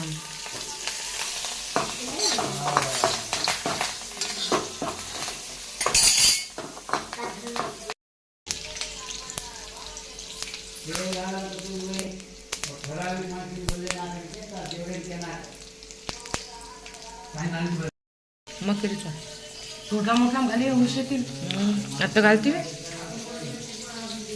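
Curry leaves tempering in a pan with a sizzling crackle and stirring, close by, while a voice talks over much of it, with a couple of brief silent gaps.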